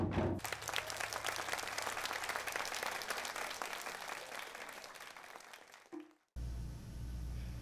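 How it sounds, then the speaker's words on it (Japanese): Applause from a large crowd fills a temple precinct after a taiko drum performance, dense and sustained for about six seconds before cutting off abruptly. "演奏が終わると大きな拍手が境内を包み込んでいました"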